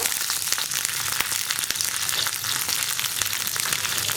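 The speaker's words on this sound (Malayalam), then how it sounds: "ഉലുവയും ഒന്ന് പൊട്ടി വന്നു കഴിയുമ്പോൾ നമുക്കിതിലേക്ക് ഒരു 4 വറ്റൽമുളക് ചേർത്ത് കൊടുക്കാം" Dried red chillies and curry leaves fry in hot oil for a sambar tempering, giving a loud, steady sizzle with scattered pops and crackles throughout and no voices.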